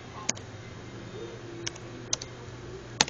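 A computer keyboard is tapped in a few sparse, isolated keystrokes, crisp close clicks spaced well apart over a quiet background hum.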